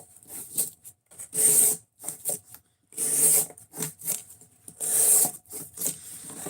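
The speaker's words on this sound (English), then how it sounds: "see if having a good focal spot will make it easier to sharpen knives." Blade of a knife drawn repeatedly across a sharpening surface, giving short scraping strokes in an uneven rhythm with brief pauses, close and fairly quiet, with no talking.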